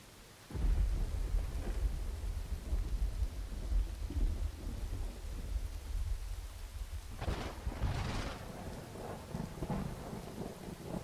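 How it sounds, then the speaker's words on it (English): Thunder rumbles loud and close through steady rain, with a second heavy crash and rolling boom near the end; no one speaks. "Okay, hopefully the storm should be over now."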